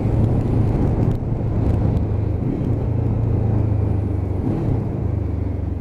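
A Lexmoto LXR 380cc motorcycle engine hums steadily at low revs during a gentle ride on fresh tyres, a continuous rumble with close road and wind noise and no talk.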